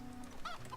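A chicken clucking in the Stonehearth video game, a single short, quiet cluck under a second long with a faint game background.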